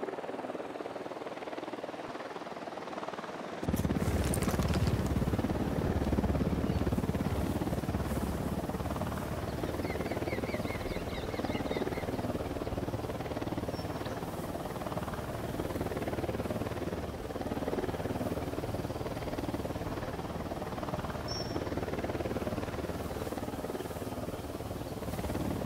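A helicopter flies close by in the Ghost Recon Wildlands video game, its rotor giving a loud, steady, continuous whir that starts suddenly and holds for over twenty seconds with no talk.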